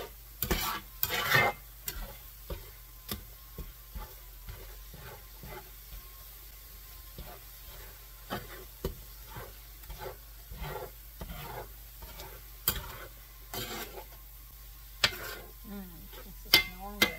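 Chorizo, elk and eggs fry in a pan with a steady soft sizzle, broken by frequent scraping stirs and clicks of a utensil against the metal, close and moderately quiet.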